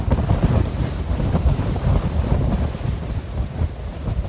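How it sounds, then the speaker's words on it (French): Strong wind gusts roar at sea around a sailboat anchored in the Cyclades, a loud, continuous buffeting rush with wind noise on the microphone and no voices. "Là, des rafales de 38 pour l'instant."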